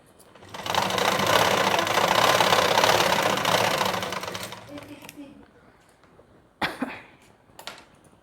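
A sewing machine runs a second line of stitching over the first to join a blouse sleeve, a steady whirring burst of about four seconds that stops abruptly, followed by a few faint handling clicks in a quiet room.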